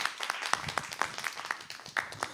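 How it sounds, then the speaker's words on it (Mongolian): An audience claps at a live concert session, a light, sparse scatter of individual claps rather than a full roar, close and fairly quiet. "За бүгдээ алга ташаа."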